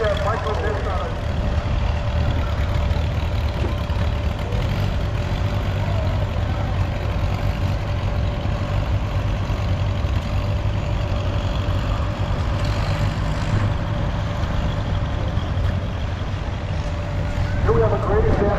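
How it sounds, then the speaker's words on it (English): A 1941 Farmall Model B tractor runs at a steady idle during a thresheree parade, its low engine chug continuous and moderately loud beneath someone talking over a loudspeaker. "We have a great example of a 1941 Farmall Model B."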